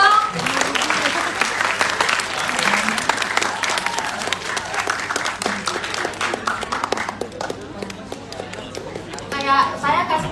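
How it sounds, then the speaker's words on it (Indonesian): An audience at a school event breaks into sustained applause, a dense patter of many hands clapping that goes on for several seconds, then thins and briefly swells again near the end, with voices mixed in. "Tepuk tangan dong."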